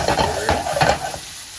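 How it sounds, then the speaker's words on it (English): Chopped onion hits a hot pan with a loud, close sizzle that flares in a few bursts as it is stirred, then settles into a steady fry, with no one talking. "Put the onion on."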